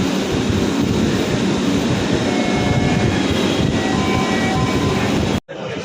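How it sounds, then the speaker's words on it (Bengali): Loud, steady rumble and whine of a metro rail train in motion, heard from inside the car, continuous roar with a high tonal hum, cutting off abruptly near the end. "এখন মেট্রো রেলে উঠে পড়বো"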